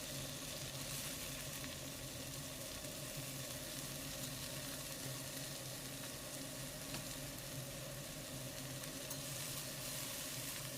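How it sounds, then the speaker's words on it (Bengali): Mixed vegetables stir-fry with chopped shish palak (spinach) in a pan, making a dense, continuous sizzle and crackle with faint stirring throughout. No speech. "কেটে রাখা শীষ পালকগুলো দিয়ে আমি সবজিটাকে ভালোভাবে নাড়াচাড়া করে নিচ্ছি"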